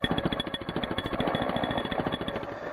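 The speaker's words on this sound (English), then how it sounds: "Using our Bosch hammer drill, we go ahead and core a hole through the wall for the discharge." A Bosch hammer drill pounds rapidly and continuously, a loud, close rattling burr with no pauses, coring a hole through a concrete wall.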